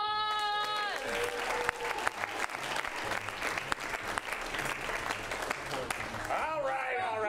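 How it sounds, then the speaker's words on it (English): Studio audience applause bursts out loudly and fills the space for several seconds, steady clapping with a few cheers, while harmonized voices slide in at the start and end. "welcome him with some applause!"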